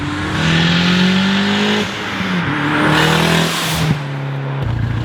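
A 1993 Nissan 240SX engine roars and revs hard nearby as it drives fast, shifting gears with rising and falling pitch, loud and continuous with no talking.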